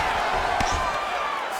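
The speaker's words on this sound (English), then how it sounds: "No surprise the crowd responded." Video game crowd in a UFC 5 bout between Jon Jones and Junior dos Santos, a steady broad arena murmur rising after a ground exchange, with a brief thump and no clear cheer peak.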